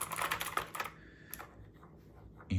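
A Razer BlackWidow V4 gaming keyboard is typed on in a fast cluster of crisp mechanical key clicks that thin out and fade, followed by a brief thump at the end.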